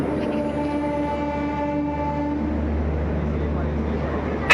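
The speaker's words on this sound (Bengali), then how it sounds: "আস্তে আস্তে আমাদের ট্রেন ঢুকে গেছে" Train pulling into a station, a steady loud rolling rumble with a long sustained horn-like tone holding through most of the clip before fading, and a sharp click at the very end.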